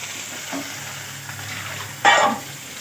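Squeezed ridge gourd peel fries in a pan with a steady soft sizzle, a brief louder hiss flaring near the end, close by and with no talking.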